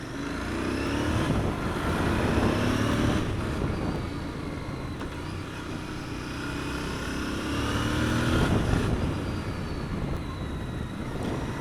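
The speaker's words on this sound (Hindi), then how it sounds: "so I am gonna ride this bike, this beautiful beauty, royal Enfield 650 GT 2025" A 2025 Royal Enfield 650 GT motorcycle ridden on the road, its engine droning steadily and swelling as it gains speed, heard continuously with wind rush and no talking.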